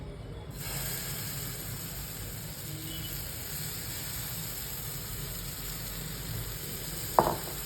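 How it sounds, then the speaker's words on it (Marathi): A tomato omelette batter with onion sizzles on a hot oiled griddle, a steady, soft frying hiss that runs unbroken throughout, with one sharp click near the end. "आता तेल लावून घेते मी आणि ऑमलेट टाकून घेते"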